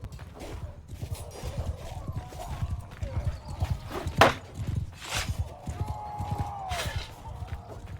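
Rhythmic hoofbeats of a galloping horse in Mount & Blade II: Bannerlord grow louder as it draws near, with a sharp thud partway through and a faint whinny over background game sounds.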